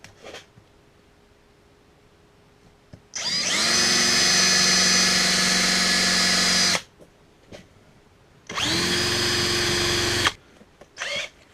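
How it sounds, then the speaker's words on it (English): A power drill drilling into a hardened roll pin on an X-4 torque multiplier runs in two long, loud bursts separated by a pause, with a short third burst at the end, against a quiet background. "we're going to start off trying to drill those pins out"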